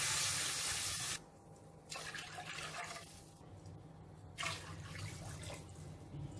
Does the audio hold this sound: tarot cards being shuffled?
no